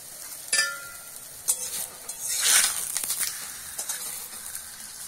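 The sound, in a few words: aloo paratha frying in oil in a wok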